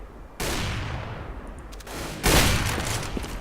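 Gunfire from Counter-Strike: Global Offensive, a loud burst of shots at the start and a second, heavier blast later, with sustained rattling noise between them.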